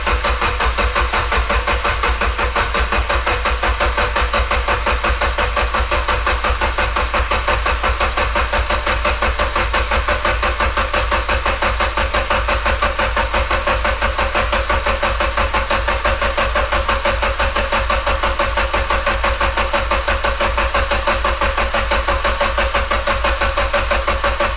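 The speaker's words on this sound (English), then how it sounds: "we're going to crank the car for like, I don't know, 15 to 20 seconds without any fuel to get the oil flowing to the turbo" A Mitsubishi Evo X with a freshly swapped MHI 18k turbo cranks over without fuel, a loud, steady, rapid rhythmic churning of the starter that runs unbroken and never catches.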